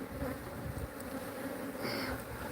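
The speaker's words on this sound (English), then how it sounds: "I'm getting some bees collaborating down in the box down there" Honey bees buzz in a dense, steady drone around an open hive box during colony equalizing, with frames of brood being moved. The sound is faint and continuous, with no voices.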